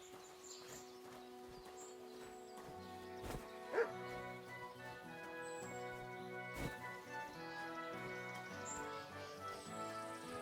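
A dog barks a few times in the medieval world of Kingdom Come: Deliverance 2, its short yips sitting faintly over soft, sustained background music.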